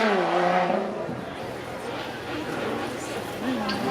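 A supercharged 3.5-litre V6 Lotus Evora 410 Sport runs at a supercar event, its engine noise rising and falling under nearby crowd chatter and voices.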